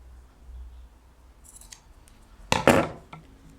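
Scissors snipping through pajama fabric: one quiet early snip, then a sharp, close double cut, clear against a near-silent room.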